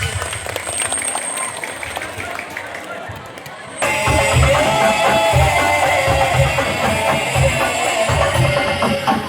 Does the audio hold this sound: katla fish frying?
no